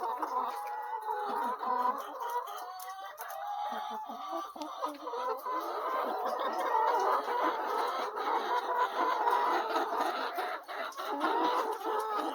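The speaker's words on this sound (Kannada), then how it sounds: "ಕೋಳಿ ಸಾಕಾಣಿಕೆ" Chickens on a poultry farm raising BV800 egg-laying hens, a dense chorus of clucking and cackling from many birds, steady and fairly close, with no talking.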